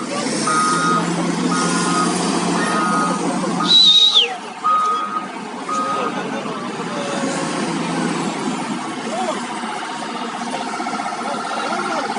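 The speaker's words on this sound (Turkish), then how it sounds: "Evet araçlar geçmeye başladı tek yönlü de olsa şu anda." Heavy trucks and other vehicles passing one way on the Erzurum-Artvin highway after a landslide: a rumbling diesel engine with a few reversing beeps early on, then steady traffic noise nearby.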